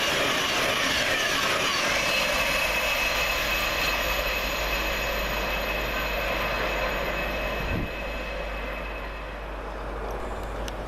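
Class 801 and class 717 trains passing Welham Green station, a steady rumbling roar of wheels and motors close by, with a faint high whine throughout.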